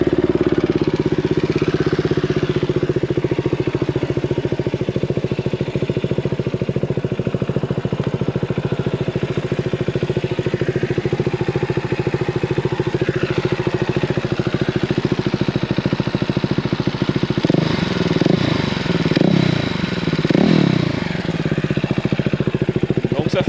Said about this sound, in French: Et je vais vous la démarrer pour faire écouter le bruit.